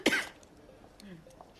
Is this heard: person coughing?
yes